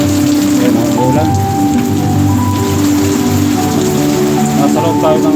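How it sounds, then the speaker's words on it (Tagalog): Steady heavy rain pounding a surface close by, heard from inside a boat, a continuous dense hiss with a low engine hum underneath. "Ayan ang ulan."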